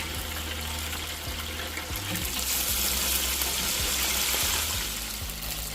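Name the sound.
chicken frying in hot grease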